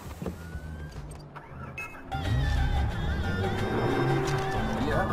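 Car engine starting in the video game Far Cry 4: a quiet stretch of clicks and faint ambience, then the engine turns over and settles into a loud, steady idle rumble with harmonic whine, close by.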